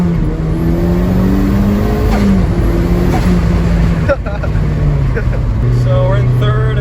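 A turbocharged 2003 Mazda Miata NB2 accelerates hard in third gear from about 4,000 rpm, its engine note climbing loud and close in several rising sweeps, with brief dips between the pulls.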